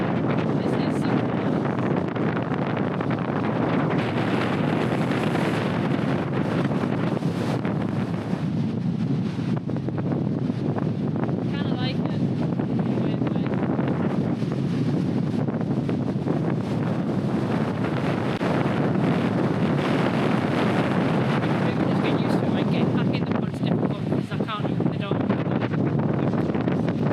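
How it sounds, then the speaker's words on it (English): Wind buffets the microphone steadily throughout while paddle boarding in Ullapool, Scotland, a loud low rumbling roar with gusts, and faint speech occasionally comes through underneath. "It's windy."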